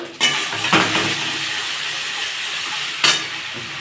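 Ginger-garlic paste sizzles in a pan with onion paste, a steady frying hiss broken by a few sharp bursts as the paste hits the oil and is stirred.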